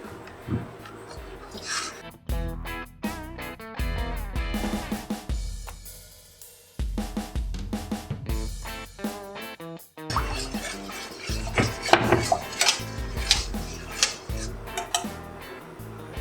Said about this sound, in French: on verse chaud dans le bocal où on va avoir mis les légumes